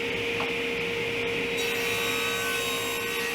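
A power saw cuts three-inch knotty pine strips for a bench face frame, a loud continuous close-up whine with steady tonal hum and cutting noise throughout, and no talk.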